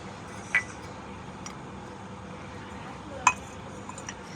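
Glass cups of freshly made tea clink faintly twice, a few seconds apart, over a quiet room background.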